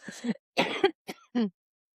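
A person gives a few short, separate coughs and throat clears in a quiet room, four close bursts with brief silences between them.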